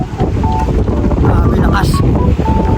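Strong gusting wind roars continuously across the microphone, loud and close, with faint whistling tones poking through.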